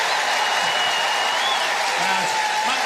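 An audience keeps up a steady wash of applause for the orchestra and band after a performance. The clapping is dense and continuous, with faint voices underneath.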